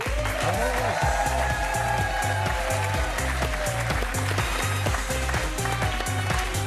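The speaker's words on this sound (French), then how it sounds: "Merci de faire un tonnerre d'applaudissements pour Blaise." A studio audience on a French TV game show applauds loudly and steadily, a dense wash of clapping that continues without a break throughout.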